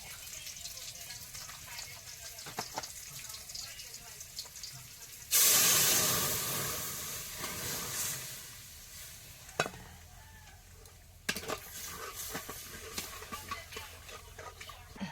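Lentils for dal are poured into hot oil seasoned with dried chilli, five-spice and chopped onion, bursting into a loud, hissing sizzle that fades gradually, followed by quieter frying and a few clatters of utensils.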